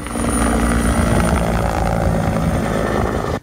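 A Slovenian Army firefighting helicopter working a wildfire, its rotor and engine roar loud and steady throughout, continuous with no talk, cutting off abruptly at the end.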